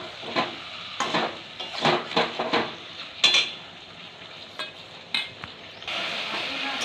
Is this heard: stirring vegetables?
yes